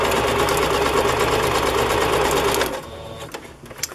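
A sewing machine stitching a pocket onto a handmade music journal, running in a fast, loud, even whir for a few seconds, then stopping, followed by faint handling clicks.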